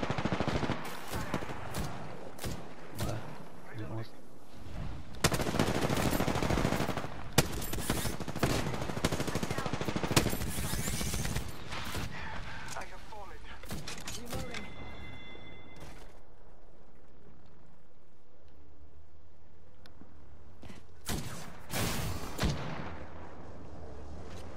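Gunfire from the video game Apex Legends: repeated bursts of automatic shots and heavier booming blasts, dense in the first half and thinning out later, with occasional isolated shots near the end.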